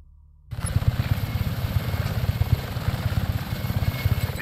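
A helicopter in Just Cause 3 starts abruptly and keeps going, its rotor thumping in a fast, steady pulse over a loud engine drone.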